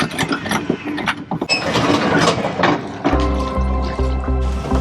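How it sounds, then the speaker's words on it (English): An anchor is raised aboard a catamaran in the Grenadines, with clanking, ratcheting mechanical sounds up close, then a steady humming winch or motor drone taking over near the end. "anchor is up and in place, and away we go"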